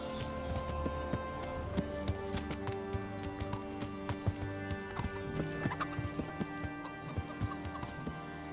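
Horse hooves clip-clopping in the medieval game Kingdom Come: Deliverance, a steady rhythmic trot of close, moderately loud hoofbeats with occasional bird calls in the background.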